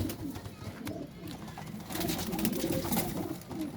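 Flying pigeons at a loft in Faisalabad coo softly in low, rolling calls, fairly faint and close, with light rustling and background noise around them.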